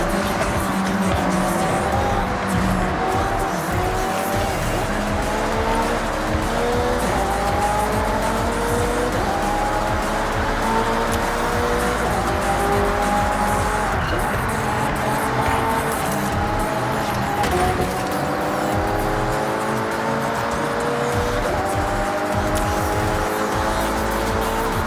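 Race cars roar through a video game race, engines revving and shifting in rising harmonic sweeps with tire squeal and skidding throughout, loud and continuous.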